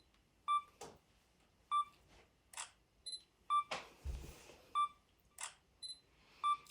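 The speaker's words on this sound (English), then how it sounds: "my camera right now is on self timer" A camera self-timer beeps in short, sharp, evenly spaced pulses, with a few shutter clicks mixed in, close and clear against quiet room tone.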